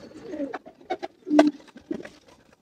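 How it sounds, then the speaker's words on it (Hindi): An Aseel pigeon coos in short, soft bursts close by, with a few throaty notes rising and falling over about two seconds against a quiet background. "बच्चा नहीं है ये तो पूरा कबूतर है"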